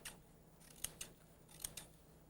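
Scissors make several crisp, quiet snips through paper while cutting fringe for paper weaving. The cuts come in two close pairs at an uneven pace with a faint hum behind them.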